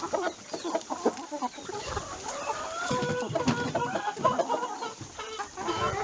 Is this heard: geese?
yes